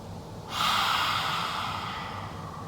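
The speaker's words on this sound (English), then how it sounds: "when you exhale, let the breath go out the mouth and stick out the tongue" A forceful open-mouth exhale during a yoga breathing exercise, one sudden loud whoosh of breath that starts abruptly and trails off gradually over about two seconds, close and alone.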